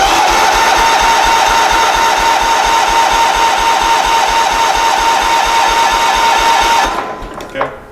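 A garden tractor engine that sat unused for five years cranks over with a fast, steady, loud mechanical whirring rhythm for several seconds, then the starter stops abruptly and a brief clunk follows.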